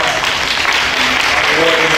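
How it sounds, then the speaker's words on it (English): An audience at a community awards ceremony applauds in a steady, dense wash of clapping close by, with no clear break throughout. "Let's let's give a round of applause for all of"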